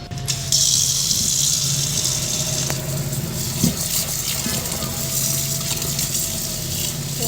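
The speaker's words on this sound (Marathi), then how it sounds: "हे बघा धुवून झाली माझी डाळ" Black lentils (dal) being rinsed under a running kitchen tap: a steady, close rush of water that starts after a brief pause and continues evenly, with a faint low hum beneath it.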